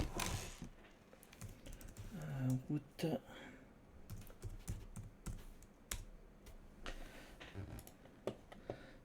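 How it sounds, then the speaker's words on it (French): Clicking keystrokes on a cheap computer keyboard being set up with a Chinese mini PC patter in irregular runs, close and fairly quiet, while someone talks over them. "Hop, le clavier poubelle."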